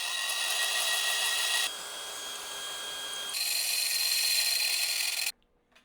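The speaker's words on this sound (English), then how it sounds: "got the trusty drill, and I'm going to drill out all 4 rivets on this mount" A power drill bores out the four rivets holding the front derailleur mount on a lightweight road bike frame, a steady high whine in three close, sustained bursts that stop abruptly near the end.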